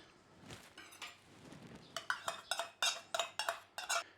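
A spoon or whisk mixing Welsh crempog pancake batter of egg, buttermilk and melted butter in a bowl, faint soft stirring first, then a quick run of sharp clinks against the bowl, close and quiet.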